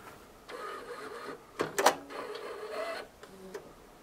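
An inkjet printer powers back on after an internal cleaning of its clogged, neglected mechanism, giving a close run of mechanical whirs, clicks and a louder grinding burst partway through as the print head and motors cycle.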